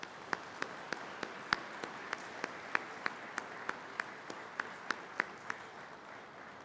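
An audience at a Detention Officer Basic class 25C11 ceremony offers a round of applause, heard as faint, sparse, evenly spaced individual claps in a regular rhythm over a quiet room.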